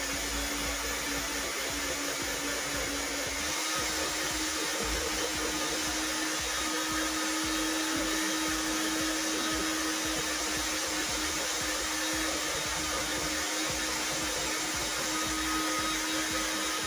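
Egg yolks and oil for sablé dough whirred together by a steady, loud electric mixer that drones without pause throughout.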